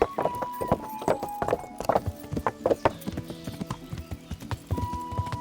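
Horse hooves clip-clop in a steady, uneven rhythm in the medieval game Kingdom Come: Deliverance, with a neigh rising above them, close and fairly loud over game ambience and faint voices.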